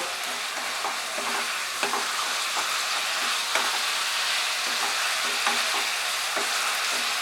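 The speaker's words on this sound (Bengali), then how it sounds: "দিয়ে পটলের সঙ্গে মশলাটা মেশাতে মেশাতে আরো 1 মিনিট আমি হাই ফ্লেমে" Pointed gourd with spices and slit green chillies stir-fried on high flame in a kadai for a Bengali milk-potol dish: a steady, close hiss of frying with scattered spatula clicks and scrapes, no voices.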